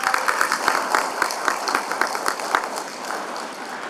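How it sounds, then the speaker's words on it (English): A smallish audience at a leadership and service awards ceremony claps for an honoree, with distinct rhythmic hand claps near the front over a softer bed of clapping that tapers off toward the end. "Y'all give her another round of applause"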